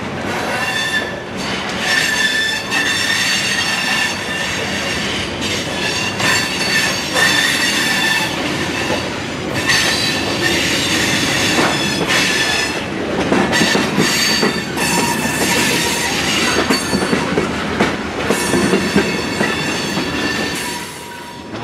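A Florida East Coast Railway freight train rolls steadily past up close, with loud, sustained wheel squeal and clattering railcars throughout, no voices.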